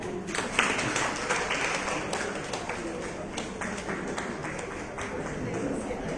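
A crowd at a book launch event claps steadily, a dense patter of applause lasting several seconds at an even level.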